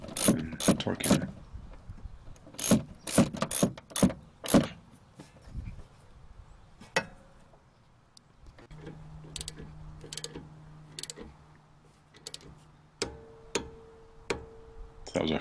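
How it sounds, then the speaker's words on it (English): A torque wrench tightening a rear brake bolt on an Infiniti G37, with bursts of sharp close ratchet clicks, a pause, then quieter clicking and faint mechanical hums over a quiet garage background. "Feed this up in there and torque it down."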